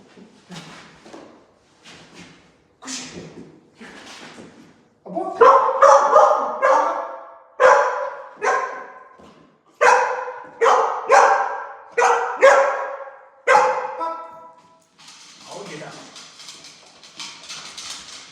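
Guard-trained dogs bark in repeated bursts on command, a few softer barks at first, then loud, rhythmic volleys close by with short pauses between.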